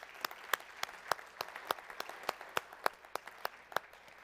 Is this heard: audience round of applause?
yes